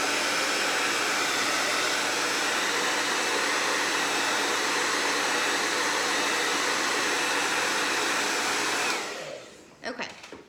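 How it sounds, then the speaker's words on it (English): A handheld blow dryer runs loud and steady at close range while drying paint on a craft piece, then cuts off after about nine seconds, followed by a few faint knocks and handling sounds. "I'm gonna go ahead and get the blow dryer and get those eyes dried."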